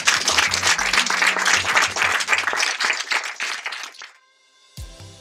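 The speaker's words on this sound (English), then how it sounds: "Let me applaud you for sharing." Audience applause at a corporate Ericsson event, a dense burst of clapping for about four seconds that stops abruptly, followed by near silence and a brief low thud.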